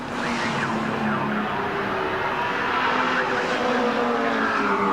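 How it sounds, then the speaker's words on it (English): Touring cars race at the 1984 Bathurst 1000, engines roaring steadily and loudly as they sweep through Forest Elbow onto Conrod Straight, with a continuous dense motor drone and no talk. "So here comes Warren Cullen, down again into Forest Elbow, back onto Conrod Straight"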